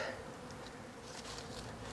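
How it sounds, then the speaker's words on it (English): Honey bees buzz around an open hive, a steady faint insect drone filling the air continuously with no voices. "Hive number 12 had lots of bees."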